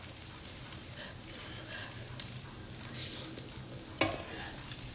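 Fried rice sizzles steadily in a hot pan as it is stir-fried, a continuous crackling hiss with occasional scrapes and clinks of a utensil against the pan, faint voices in the background.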